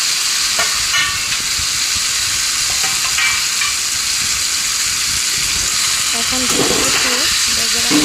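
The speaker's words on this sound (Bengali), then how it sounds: "একটু ভেজে নিলাম" Ground spice paste fries in hot oil with a steady, close crackling sizzle, joined near the end by a brief tonal honk-like sound.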